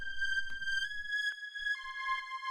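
A techno synth tone drenched in long reverb, holding bright sustained pitches that shift up and down in steps while a spacious wash and faint low pulses trail beneath, quiet and without any voices.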